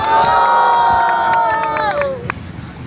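A large crowd at a rap battle event in Las Piñas City cheers and shouts loudly, a dense roar of many voices that fades slightly toward the end.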